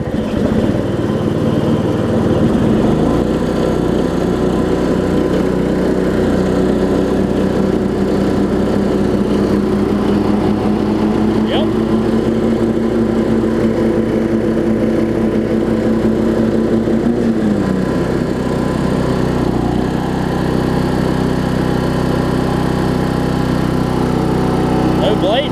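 Weed Eater AYP riding mower running loudly and steadily up close with its blades engaged, a constant engine drone with a hum that shifts partway through, while a person talks over it.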